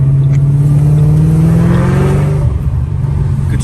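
Ford Mustang Stage 2 engine revving loud and close, its pitch climbing steadily through a strong acceleration before dropping off as the gear changes.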